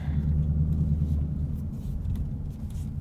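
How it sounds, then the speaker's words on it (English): A 2020 Ford Mustang GT Premium Convertible's V8 idles with a deep, steady, rumbling burble, close and continuous, with no one speaking. "Good old burbly V8."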